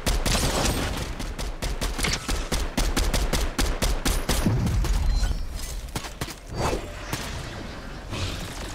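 Video game gunfire rattles in rapid bursts of sharp shots and whooshes, dense and loud throughout, with a brief lull before more firing.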